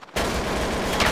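Sustained video game gunfire from a 2002 shooter, a dense continuous burst that cuts in suddenly after a brief quiet start and stays loud and close for about a second.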